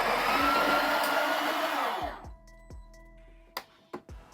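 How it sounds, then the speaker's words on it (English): Burr grinder in an espresso setup grinding five or six coffee beans, a loud dense whir for about two seconds that cuts off, followed by a few light clicks and taps. "add in a little bit coffee beans, like five or six coffee beans. So I will grind"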